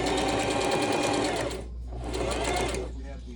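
A sewing machine sews bias tape around a vest armhole, running close and loud with a steady buzz that briefly eases and picks up again, with a voice talking over it.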